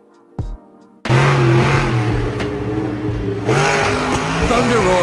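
A monster truck engine revs on a track, a loud, close roaring drone with a strong low rumble that swells after a short sharp start and climbs again near the end.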